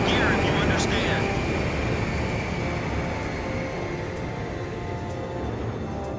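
Steady aircraft engine drone from a plane flying in the video game Ace Combat Squadron Leader, loud and continuous throughout, easing slightly in level, with a brief higher tone early on.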